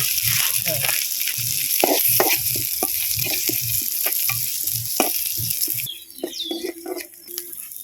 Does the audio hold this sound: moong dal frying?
yes